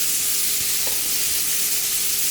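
Scallion, garlic and fresh basil sizzle in a hot pan for rasta pasta, with a steady close frying hiss and a couple of soft stirring scrapes, no voices.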